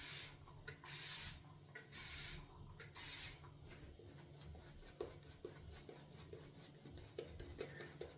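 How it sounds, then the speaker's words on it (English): A spray bottle mists water onto shaving soap to build a wet shaving lather: three or four close, loud hissing bursts in quick succession, followed by quieter rubbing and scraping. "Two more sprays and then we paint in."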